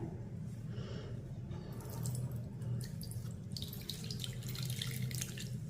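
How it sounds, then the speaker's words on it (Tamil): Herbal juice drips and trickles from herbs being squeezed tightly through a white cloth, a steady watery splashing with brighter bursts of dripping partway through. "நல்லா டைட்டாக புழிஞ்சு ஒன்று விடாமல் அதில் உள்ள சாரை எடுத்துடணும்."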